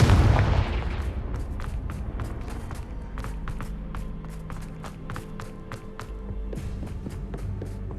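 The Confringo blasting spell explodes in Hogwarts Legacy with one loud, close burst at the start. A rumbling tail follows, then quieter scattered cracks and crackles fade over steady background ambience.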